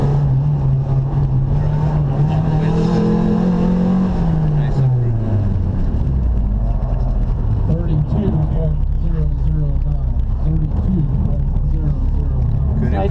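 A car is driven hard around a slippery track through braking and a 360 turn, its engine note rising, holding and then dropping low, loud and close, with voices talking over it throughout.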